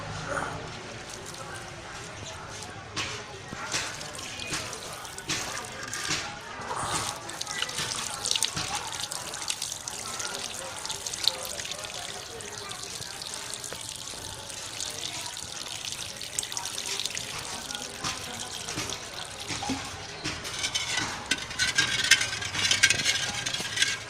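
Tap water running into a container while the soaking water is changed during home preparation, a continuous splashing flow with drips and clatter, with speech over it at times.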